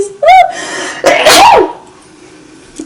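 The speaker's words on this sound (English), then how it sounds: "I gotta sneeze." One close, loud sneeze comes from a person: a rising breathy intake, then a sharp explosive burst, followed by quiet breathing.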